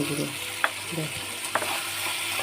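Spices tipped into a hot frying pan while cooking a Bengali fig (dumur) curry, with steady close sizzling and two sharp stirring scrapes of the spatula, no voices.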